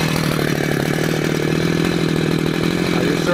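A Husqvarna chainsaw cuts into a tree on a farm, its engine holding a loud, steady, close-up whine with a buzzing rasp and a faint clatter through the whole stretch.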